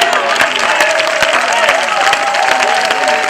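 A church congregation in a village in Vitré, Côte d'Ivoire, claps and cheers steadily in a dense wash of crowd noise, with a singing or shouting voice running through it.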